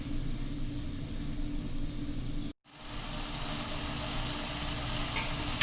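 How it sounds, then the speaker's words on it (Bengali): Onions and tomatoes fry in a pan with a splash of water for a homemade dahi chicken, giving a steady sizzle with stirring scrapes, briefly cut off midway and then resuming louder. "জল দিয়ে এটাকে একটুখানি ভাজতে হবে আবার, যাতে ভালো করে এগুলো একটু সিদ্ধ হয়ে যায়"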